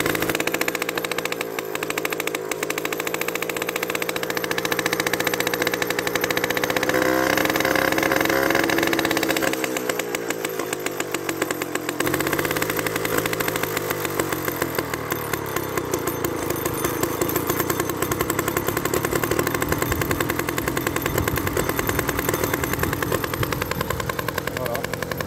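A 1959 Solex 1400 moped engine runs steadily close by, a buzzing two-stroke drone that rises and falls as the throttle is opened and eased, loud throughout with no pauses.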